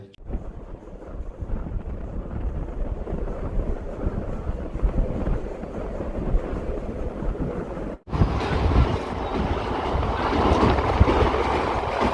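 A train rumbles steadily with rattling wheels and wind buffeting as it arrives at a station near Deoghar, then a brief cut into louder, harsher clatter as it rolls on.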